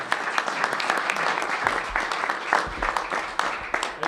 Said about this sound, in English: I usually don't get applauded at these times.